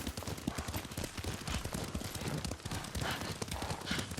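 A horse ridden in the video game Ghost of Tsushima, its hooves clip-clopping in a quick, steady gallop, close and continuous under a wash of ambient game sound.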